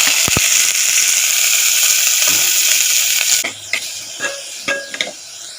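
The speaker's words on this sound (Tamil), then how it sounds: "இந்த 2 வெங்காயத்தையும் 3 பச்சை மிளகாவையும் அந்த எண்ணெயில் சேர்த்துக்கலாம்." Onions and green chillies sizzling in hot oil in a home kitchen, a bright steady hiss for a few seconds, then quieter crackling with scattered stirring clinks and scrapes as the sizzle dies down.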